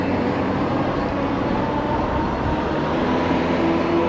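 An electric bike picks up speed on a throttle-only run, giving a steady broadband rush of wind and road noise with a faint rising motor whine, fairly loud and continuous with no talk.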